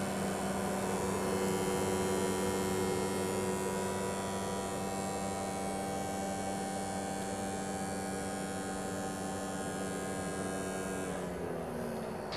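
A high-speed electric motor with a delta-connected diamond winding, run on only 7 volts, gives a steady loud whine with strong harmonic hum that holds constant throughout and shifts slightly near the end, with no voices.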